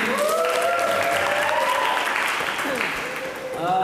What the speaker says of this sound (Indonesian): beri tepuk tangan untuk yang bertanya